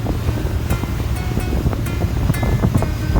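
Dense, loud rush of wind and sea waves heard aboard a ferry at sea bound for Mersin, a constant roar with microphone buffeting and occasional sharper splashes.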